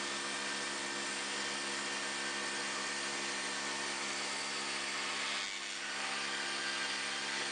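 A power tool cuts through the outside edge of a filament spool for a 3D printer, a steady high whining buzz that runs without pause, with no talking.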